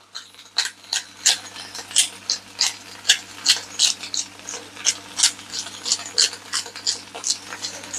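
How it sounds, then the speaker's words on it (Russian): Black pepper is ground fresh in a pepper mill for an eggplant, feta and tomato salad, a rapid run of crisp ratcheting clicks, close and steady, in quick irregular twists. "Обязательно черный перец свежемолотый, друзья."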